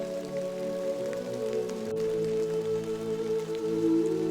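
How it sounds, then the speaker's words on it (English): Steady rain falling on a stormy night, a continuous wash of drops drumming on surfaces with a low sustained rumble underneath, even and unbroken throughout, with no voices. "The rain fell in silver sheets, but Aina pressed on"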